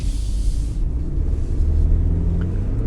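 A 2019 BMW X4 30i M accelerating on the road, heard as a steady low engine and road rumble from inside the cabin, even and sustained without distinct gear changes.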